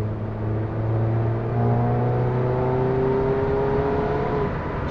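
A car with a EuroDyne Stage 2 tune and a Circuit Werks downpipe pulls in gear on curvy roads, its engine drone rising steadily and loudly from close inside.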